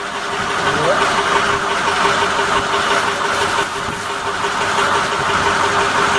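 Ford 6.0L diesel engine running steadily at idle, a continuous close, loud drone with a constant tonal hum throughout, no speech over it.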